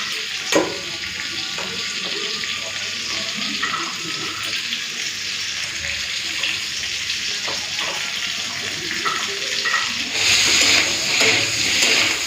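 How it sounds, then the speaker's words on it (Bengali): Potato and cauliflower pieces fry in hot mustard oil in a kadai, a loud, continuous close sizzle that swells to a brighter hiss near the end, with faint stirring clinks and no speech. "এই যে আলু আর ফুলকপিটা পুরো লাল করে ভেজে নিয়েছি"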